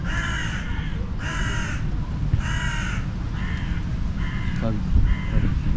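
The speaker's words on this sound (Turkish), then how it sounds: "kargalar eksikti." Crows caw outside on a quiet Istanbul street during the Kurban Bayramı holiday, six harsh calls in a loose rhythm, the first three louder and the later ones fainter, over a steady low rumble with voices in the background.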